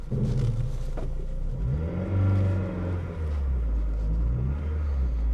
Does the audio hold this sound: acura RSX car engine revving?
yes